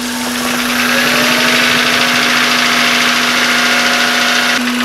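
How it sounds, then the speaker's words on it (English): The small engine of a 2000 Honda Insight idles just after start-up with the air filter out, a loud steady buzzing hum with a raspy mechanical clatter, close and continuous throughout. "It's a fairly noisy engine."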